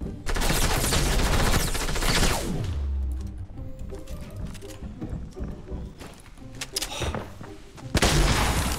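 Assault rifle fire in the video game Fortnite, a dense loud burst of rapid shots at the start, then scattered gunfire and clattering game effects, with another loud burst near the end.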